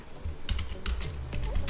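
Computer keyboard clicks from someone typing Java code, a quick irregular run of close, crisp keystrokes in a quiet room.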